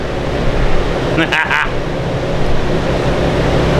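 A supercharged engine in a C6 runs hard on a chassis dyno with the boost turned up, a loud sustained roar that holds steady throughout with only a brief dip near the middle.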